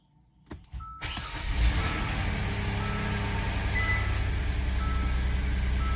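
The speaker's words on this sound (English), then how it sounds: "Now it might clatter just a little bit until it gets oil up in it." A 2014 Kia Sorento V6 cranks and fires after an oil change, a brief starter whir then a steady idle with a faint ticking clatter, close and continuous with no talk.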